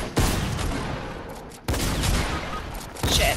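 Rapid gunfire in the video game Fortnite, three loud bursts of automatic shots with brief gaps between them, close and harsh.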